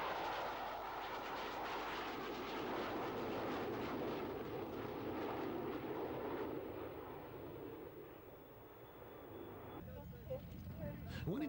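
A Nimrod jet flies a display at an RAF air show in Scotland, its broad engine roar loud and sustained, then fading somewhat before swelling again near the end.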